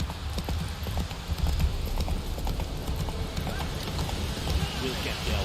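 The horse Roach galloping in the video game The Witcher 3, a rapid, steady clip-clop of hooves, close and loud throughout, with spoken voices over the galloping.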